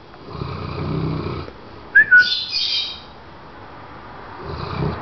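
A short, high rising-and-falling whistle cuts through quiet room noise, with soft murmuring before and after it.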